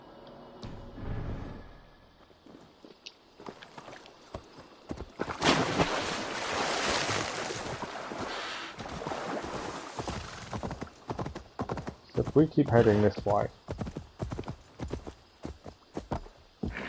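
Horse galloping in the video game Assassin's Creed Valhalla, Wrath of the Druids, with steady hoofbeats under wind and ambient game noise, swelling louder partway through, while someone briefly talks over it.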